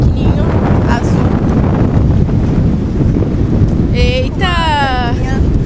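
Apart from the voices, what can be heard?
wind blowing into the microphone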